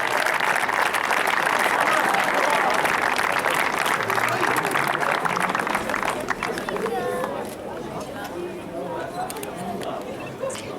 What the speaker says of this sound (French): Allez, vous pouvez l'applaudir